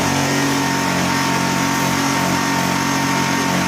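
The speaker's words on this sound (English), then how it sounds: "I'm going to turn on one of the heaters, and it's going to strain this generator" A Honda inverter generator engine runs steadily at high revs under a heater load with eco throttle off, a loud continuous hum with a low drone and no pauses, heard alone.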